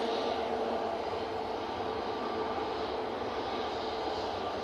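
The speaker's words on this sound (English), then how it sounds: "Virgin Atlantic, just touching down." A Virgin Atlantic airliner touching down at Manchester Airport, heard as a steady, distant jet roar that holds evenly throughout with no talk over it.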